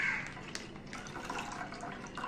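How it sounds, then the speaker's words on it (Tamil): Milk pours from a cut packet into a vessel in a kitchen, making a soft, continuous splashing trickle that is faint and close, with no talking over it. "ஃபஸ்ட்டு நான் பாலை உடச்சி ஃபஸ்ட்டு ஊற்றிடுறேன்."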